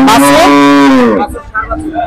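A Holstein Friesian dairy cow gives one long, loud, close moo, followed by quieter shuffling and faint farmyard noise.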